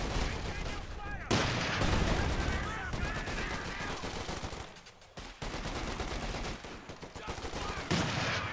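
Dense, continuous battle gunfire in Company of Heroes 2 during the Ardennes Assault, with overlapping machine-gun and rifle fire and distant booms. Voices shout orders over the shooting.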